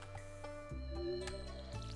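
Soft watery splashes and drips from watering crops in the Stardew Valley farming game, a short liquid pour in the middle of faint background music.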